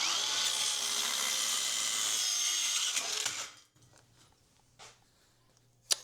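A Hercules 4.5-inch saw makes a 45-degree miter cut through 3/4-inch oak flooring, its loud high whine steady for over three seconds before cutting off abruptly, followed by quiet and a couple of faint clicks.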